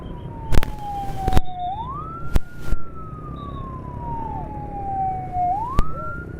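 An ambulance siren wails along a street, sweeping slowly down and back up in pitch in a long repeating cycle, loud and steady, with a few sharp knocks and traffic noise underneath.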